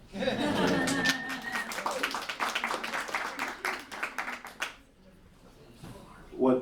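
Audience clapping after a listening session at a radio station, a brief burst of applause mixed with chuckles and voices that dies away into quiet murmuring.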